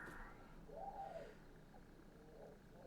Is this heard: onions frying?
no